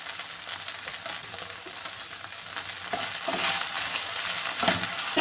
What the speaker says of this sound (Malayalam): ഇനി ഇത് നന്നായിട്ടൊന്ന് ഫ്രൈ ആക്കി എടുക്കാമേ